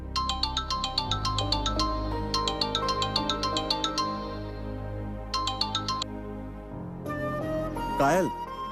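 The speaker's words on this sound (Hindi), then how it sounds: "कब से फोन कर रहा हूँ तुम्हें, फोन क्यों नहीं उठा रही हो?" A mobile phone rings with an incoming call, a bright repeating electronic ringtone melody played in bursts, with a voice rising near the end.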